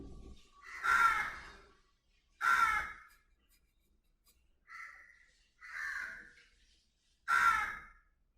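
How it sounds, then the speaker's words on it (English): Crows in a residential colony caw five times at irregular intervals, each call a harsh, loud burst standing alone against a quiet background. "So there is a lot of crows in our colony, so they every day they give me a company."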